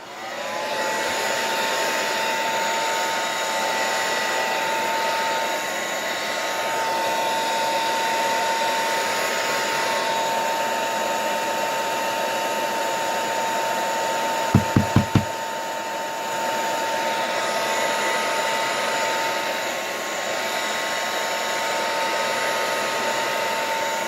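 A hair dryer blows steadily on a mixed media artwork, a constant close whir that holds for the whole stretch, broken once near the middle by a quick burst of knocks.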